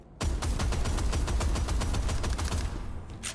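Rapid bursts from the Warbringer, a heavy cannon-like gun in the sci-fi shooter Deadzone Rogue, firing about a dozen evenly spaced loud booming shots in a steady rhythm before cutting off, with no voices.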